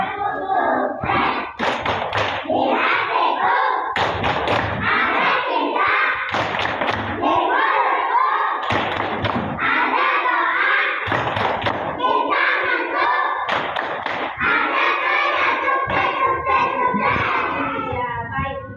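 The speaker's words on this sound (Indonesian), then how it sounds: "Ayo kita isi dulu untuk sukses. 1, 2, 3. Tepuk sukses." A class of schoolchildren performs a rhythmic "tepuk sukses" success clap in a classroom, loud grouped bursts of claps and thumps repeating in a steady pattern with children's voices chanting along throughout.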